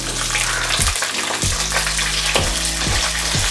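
Curry leaves, small shallots and green chilies fry in hot oil in a pan, giving a loud, steady sizzle and crackle with a few sharp bursts as more ingredients go in.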